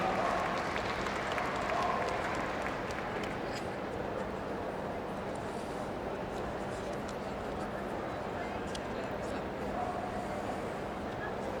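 A crowd applauds at the Crufts 2017 Inter-Regional Rally dog event, a steady, distant patter of clapping with dogs barking and yipping and voices in the background.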